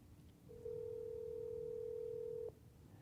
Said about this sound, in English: So the phone is ringing.